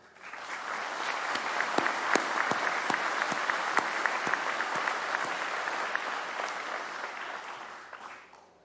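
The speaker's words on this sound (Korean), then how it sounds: "경찰 여러분의 헌신에 격려의 박수를 보냅니다" Sustained applause from a large audience at a police day anniversary ceremony, dense and steady with sharp individual claps throughout, fading out at the end.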